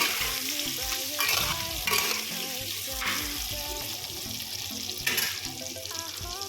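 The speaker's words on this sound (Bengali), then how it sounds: "দিয়ে আলুগুলোকে লাল লাল করে ভেজে নেব" Potatoes sizzle steadily in hot oil with turmeric, crackling and hissing continuously, with occasional stirring scrapes and a few brief louder bursts.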